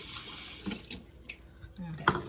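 Water running from a kitchen tap for a wild rice meatloaf, a splashy stream with uneven bursts and splatters, while a person speaks briefly.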